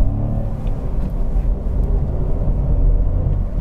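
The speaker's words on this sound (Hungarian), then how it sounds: "nyomtam egy kisebb gázfröccsöt, hogy nagyjából hallatszódjon a motornak a hangja" A 2022 Ford Fiesta 1.0 EcoBoost mild hybrid three-cylinder engine takes a short blip of throttle, a loud, close, low rumble that swells and holds, with no voices over it.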